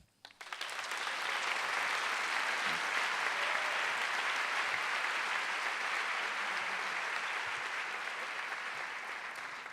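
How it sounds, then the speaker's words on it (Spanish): Sustained audience applause at a conference in Montevideo, steady and loud for nearly ten seconds with a dense crowd of hands and no talk over it. "Juntamos nuestras manos en acción de aplauso, mano y mano, duro y bien fuerte"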